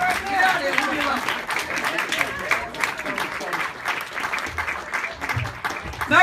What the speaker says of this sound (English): Nice round of applause for Kevin.